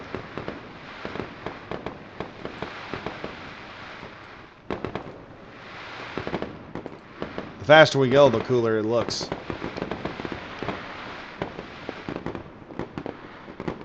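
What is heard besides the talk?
Assault Raptor firing fireworks-like missiles in video game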